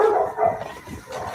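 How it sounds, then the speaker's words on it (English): Dog howls drawn out and mournful, resembling crying, with a sustained wavering tone that rises and falls steadily over a murky background at moderate distance. "Dog howls can be heard resembling the crying"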